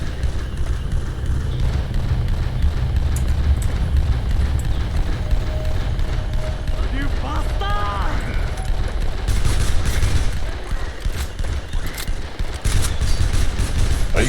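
Near-continuous automatic gunfire in the video game Dead Island, a dense sustained rattle of shots with short bursts and pauses running throughout, layered with game effects and occasional voices.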